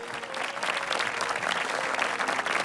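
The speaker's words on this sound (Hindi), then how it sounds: "टीम सी के लिए बहुत सारी तालियां होनी चाहिए" A studio audience at a televised Ramadan quiz show applauds steadily, a dense, even wash of many hands clapping with no gaps and no voices above it.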